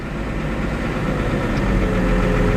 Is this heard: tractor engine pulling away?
yes